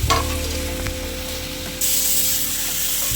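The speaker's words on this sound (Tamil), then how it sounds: "இந்த தக்காளி வந்து நல்லா தோலெல்லாம் நல்லா எண்ணெயில் வதங்கிடுச்சு" Tomatoes sautéing in hot oil for a spinach (palak) gravy give a steady, close sizzle with a brighter, louder hiss surging in partway through, and no voices.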